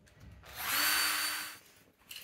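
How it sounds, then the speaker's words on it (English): A power drill bores a 10mm hole through a uPVC door for a multi-point smart lock, one loud whirring burst of about a second that swells and fades, with a short tool noise after. "We will drill out these holes and we'll come back in a second."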